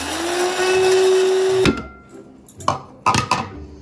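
An electric spice grinder whirs steadily for under two seconds, coarsely crushing roasted spices for kebab mince, then stops, followed by a few short knocks and rattles as the jar settles.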